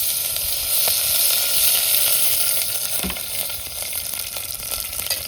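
Onion frying in oil over a wood-fired chulha as chicken is being cooked, a steady loud sizzle with occasional scraping stir clicks, no voices.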